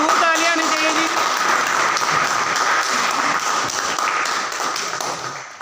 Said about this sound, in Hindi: भरपूर तालियां आनी चाहिए जी।